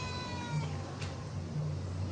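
Hungry Filipino puspin cats meow while waiting for lunch, with a few soft, fairly faint meows over a low steady background hum and no talking.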